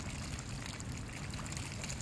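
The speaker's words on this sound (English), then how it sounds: "It's raining" Rain falling outdoors with water trickling and pouring nearby, a soft, steady, faint wash of noise lasting a couple of seconds with no voices.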